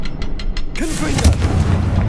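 A fire-blasting Confringo spell explodes in the video game Hogwarts Legacy: a few quick bursts, then a loud booming blast with rolling rumble and crackle, while a voice is heard briefly over the noise.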